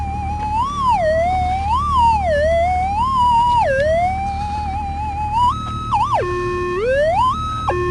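A metal detector sweeping over a gold nugget target at a gold exploration site gives a loud, continuous warbling electronic tone that rises and falls in pitch and then jumps between steady stepped notes, with no talk.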